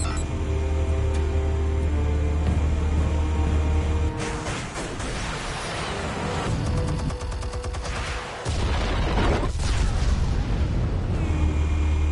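Explosives detonate in a Batman video game, a string of heavy booms and crackling blasts over several seconds, with a low rumble before and after and sharp bursts of debris-like crackle in between.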